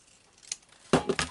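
Cutting material for a model railway layout, with a faint snip and then a louder burst of two or three sharp cutting crunches close by.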